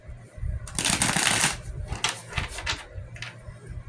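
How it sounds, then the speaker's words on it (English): A deck of cards is riffled and shuffled for a tarot-style reading: close, crisp bursts of fluttering card riffles, loudest early, then several shorter flicks, with no talking. "Allow me to shuffle for your person."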